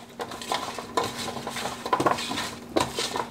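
Vegetables being tossed with oil in a dish, giving repeated clinks and scrapes of utensils against cookware in irregular bursts, close and moderately loud, with no talking.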